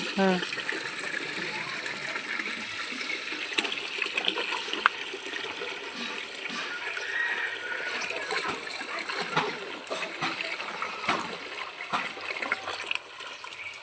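Jeevamrut liquid manure gushes from the tap of a filter tank, a steady broadband rush and splatter of flowing liquid that runs continuously and loud with no pauses.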